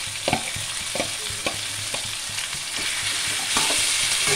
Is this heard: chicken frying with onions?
yes